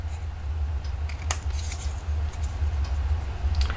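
Scissors trim pieces of paper for a handmade gingerbread and peppermint recipe album, a few quick crisp snips close by over a steady low background hum.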